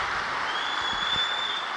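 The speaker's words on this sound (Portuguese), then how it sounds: "Agora você vai dar um aplauso bem quente para Jesus." An audience at a church youth event applauds steadily throughout, a dense, fairly even patter of clapping heard at a moderate distance.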